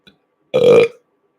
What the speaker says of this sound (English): Spiritual burp.